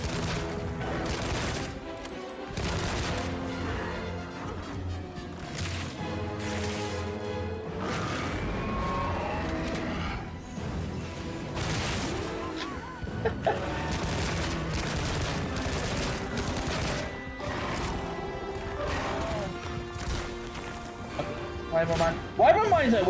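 Rapid volleys of gunner weapon fire in Monster Hunter Wilds while dashing, bursts of sharp repeated shots and impacts over game music, with someone talking throughout.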